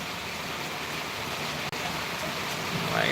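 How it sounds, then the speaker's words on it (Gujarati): Heavy rain falls steadily at a farm field in Gujarat, a dense, even hiss of downpour that stays loud and constant throughout, with one brief sharp click midway and no voices. "એકદમ ફૂલ વરસાદ ચાલી રહ્યો છે"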